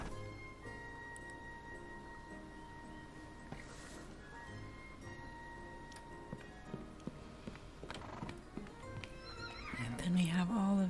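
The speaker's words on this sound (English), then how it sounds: "And then we have all of these lovely horses here." Horses on a ranch in the Ranch of Rivershine video game snort and whinny softly with occasional hoof clip-clops, quiet ambient game audio rising slightly toward the end.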